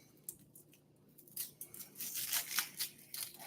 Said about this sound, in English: And we're just peeling the layers of our onion.